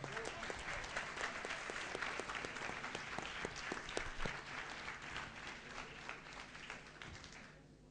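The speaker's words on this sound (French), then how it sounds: "On peut l'applaudir." Hall audience claps in applause, a dense patter of many hands with sharper individual claps, steady for several seconds then tapering off slightly, heard from a distance.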